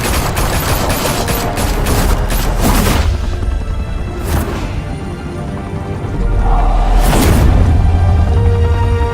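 Heavy gunfire in Batman: The Telltale Series, with loud volleys and deep booms that rise and fall in sustained waves, intense and close, with no talking.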